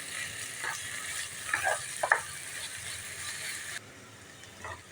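Bitter gourd stir-fried with onion and tomato in a pan, giving a steady soft sizzle with a few brief scraping stirs partway through, close and moderately loud, with no voices.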